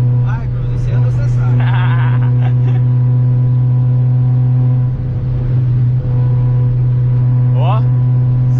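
A Chevrolet Cruze speeds along a Brazilian highway at over 200 km/h, racing a Golf. The steady, loud engine drone and road noise from inside the car continue throughout, with people talking over it.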